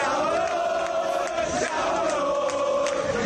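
AC Milan fans in red and black jerseys fill a square in Bassano, celebrating the club's 19th league title with sustained, loud massed chanting, a dense crowd roar with melodic sung lines that carries steadily throughout.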